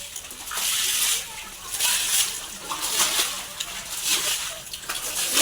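Water splashing and sloshing in a flooded village yard during the rainy season: steady close splashes, likely from wading, in repeated surges of rushing water.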